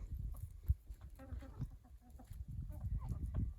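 Australorp and barnyard mix chickens cluck softly nearby on a homestead, with scattered low calls and faint background noise.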